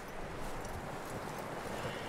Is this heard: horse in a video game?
yes